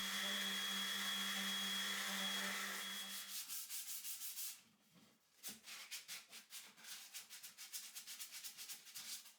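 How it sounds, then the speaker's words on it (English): Wood being sanded to 320 grit by hand, loud steady rubbing at first, then after a brief pause a quicker run of short back-and-forth strokes, close and alone. "Sand it well to 320 grit and they're ready for an engrave."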